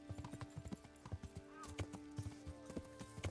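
A horse's hooves clip-clop in a quick, steady rhythm on hard ground in the video game Kingdom Come: Deliverance, fairly quiet, with a brief whinny partway through.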